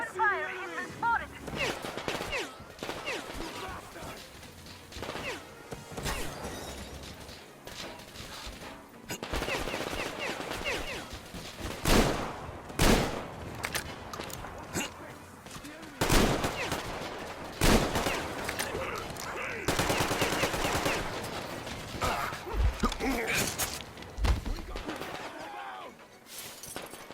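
Gunfire crackles through a firefight in the game Metro Exodus, with repeated bursts of automatic shots and sharp single cracks coming close and loud in clusters, while shouted voices break in between.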